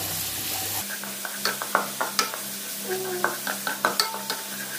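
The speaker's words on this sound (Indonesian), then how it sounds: "Kita goreng sampai baunya harum." Steady sizzling of garlic frying in a pan, with a series of light scraping stirs and occasional clinks of a utensil against the pan.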